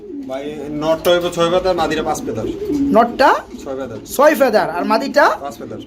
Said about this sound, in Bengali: নিউ অ্যাডেল ড্যানিশ কবুতর